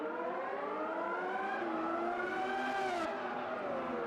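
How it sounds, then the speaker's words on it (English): Formula 1 race car engines from 1991 in the Automobilista 2 racing game rev together at the race start, a sustained rising and falling high whine that stays loud and close throughout. "Okay, so engines revs, lights out, and away we go!"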